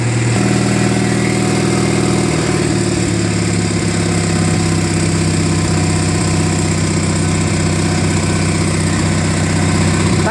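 A Murray Ultra garden tractor's opposed-twin engine, which has been running rough with magneto ignition coil trouble, runs loud and close, a continuous throbbing drone that holds steady throughout with no voices.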